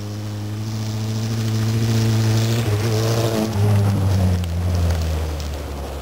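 A rally car on a road roars past with a strong engine drone whose pitch rises and shifts as it accelerates, loud and close, with no voices over it.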